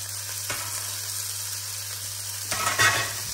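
Smoked meat and lightly softened onion fry steadily in a pan, a continuous broadband sizzle with a few brief scraping knocks from stirring, close and fairly loud throughout.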